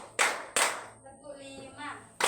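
Children in a classroom clapping along in a counted routine: a few sharp separate claps with a pause between them, while a voice speaks in the gaps.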